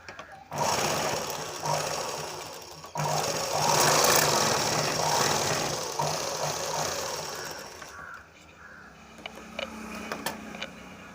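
Sewing machine stitching a lined blouse, with bursts of fast, rattling needle motion separated by short pauses, close and fairly loud, then quieter handling sounds near the end.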